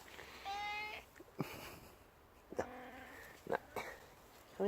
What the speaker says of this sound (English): This is a very talkative cat.